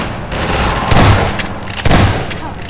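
Gunfire rattles in Half-Life 2: Episode One, with loud close bursts of shots and two heavier thumps within a dense, continuous wash of combat noise.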